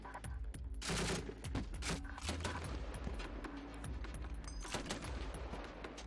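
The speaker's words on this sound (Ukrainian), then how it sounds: "Далі за сценарієм зав'язується бій." Gunfire during a staged battle in a military training exercise at the Ukrainian border: dense, overlapping bursts of rifle and machine-gun shots with booming low rumble, heard at a distance and fairly faint overall.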